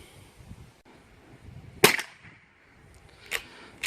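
A .22 squeeze bore rifle fires one sharp, loud report near the middle, with a second fainter crack toward the end, against quiet outdoor background.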